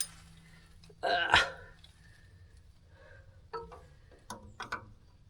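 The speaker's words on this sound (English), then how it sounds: "I grabbed some smaller wrenches." Small metal wrenches clink and clatter while being handled during master cylinder replacement on an M35A2 Deuce and a Half truck, a few sharp nearby clanks separated by quiet pauses.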